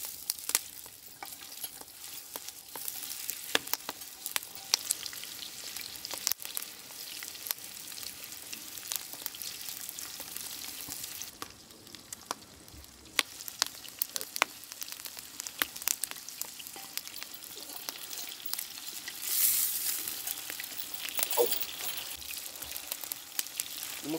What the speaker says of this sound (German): Du musst ihn länger braten lassen.